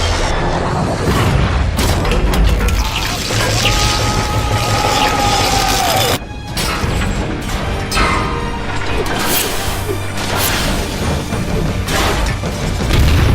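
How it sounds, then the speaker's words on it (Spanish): The arc reactor explodes in the 2008 film Iron Man, a loud, sustained roar of blasts, crashes and grinding mechanical noise with a short drop in the middle before the din surges again. "finalmente el reactor Arc termina explotando con el mismo Obadiah dentro"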